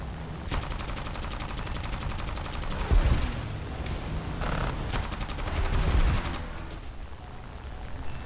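Sustained bursts of .50 cal machine-gun fire from a Ki-61 fighter plane in an arcade air-combat video game, dense rapid rattling with a few heavier thumps, loud and continuous with no talking.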